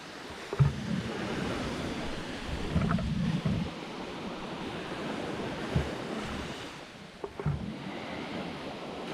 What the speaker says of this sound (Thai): วันนี้คลื่นแรงนะคะ เพราะว่ามีฝนตกนะคะ